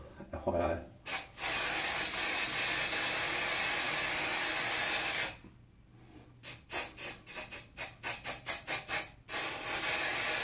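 An aerosol can of hairspray used on a beard hisses in a long continuous spray, then after a pause releases a rapid series of short bursts followed by another sustained spray.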